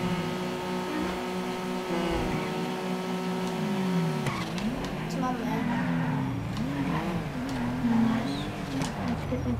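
A car in GTA 5 holds a steady engine drone, then revs up and down in wavering surges while driving, loud and continuous throughout.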